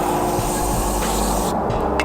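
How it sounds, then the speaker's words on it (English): Brake cleaner sprays from an aerosol can onto van brake parts in a loud, close hissing burst that cuts off sharply near the end, followed by a brief short puff. "Now we got some trusty brake cleaner."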